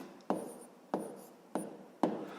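A pen or pencil writes out numbers for a fifth-grade decimal division exercise, making four short, distinct scratchy strokes at an even pace, close up and quiet, with no talking.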